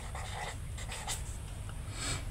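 Pen or pencil scratching on paper while a Bengali third-grade maths problem on kilometres and metres is written out, steady close scratchy strokes with a low background hum.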